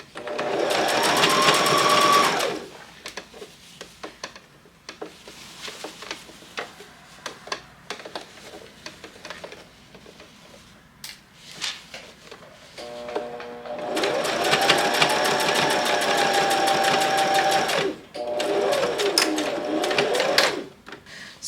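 A sewing machine stitches the outer panels of a blazer in two long, loud whirring runs of rapid mechanical clatter, separated by a quieter stretch of faint handling noises.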